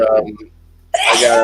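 A single loud, close sneeze bursts out near the end of a short stretch of conversation, following a brief pause after speech.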